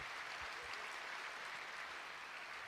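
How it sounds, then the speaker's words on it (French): Audience applause at a talk in Toulouse, a steady wash of many hands clapping at an even, sustained level for the whole stretch. "Thank you for applauding."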